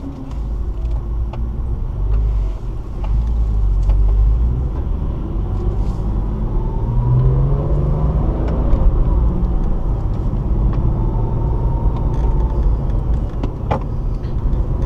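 A Porsche 997 Targa 4S laps the Circuit de Bresse race track, its engine rumbling steadily from inside the car, rising and falling through the run without talk.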